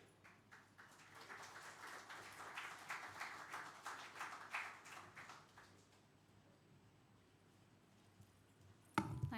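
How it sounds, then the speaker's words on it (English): Audience applause at a startup seminar, a steady wash of many hands clapping at moderate distance that fades out after about six seconds, followed by quiet room tone and a brief thump at the end. "A big round of applause, please."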